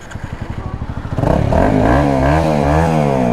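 A Kawasaki Z800-style motorcycle with an SC Project exhaust sits close by, idling with a rapid lumpy pulse before the rider blips the throttle into a loud, sustained rev that rises and wavers.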